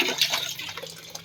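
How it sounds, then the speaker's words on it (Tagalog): Cold water running from a tap over freshly boiled eggs in a pot, a steady close splashing and dripping with no talk. "Lalagyan natin siya ng tubig na malamig para mahirap."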